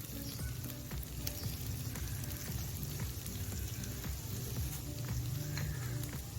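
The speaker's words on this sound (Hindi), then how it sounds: "और इनको साते कर लीजिए कि इनका कच्चापन खत्म हो जाए" Chopped ginger and green chilies sauté in a pan with oil, giving a soft, even, continuous sizzle with faint scattered crackles, low in level throughout.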